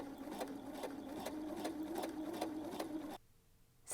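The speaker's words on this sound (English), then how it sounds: "Now I'm just using a regular straight stitch and just pretty much going at a slow pace" A sewing machine running a regular straight stitch at a slow, steady pace while a dress is made, giving a close, even mechanical hum with regular needle clicks, then stopping abruptly near the end.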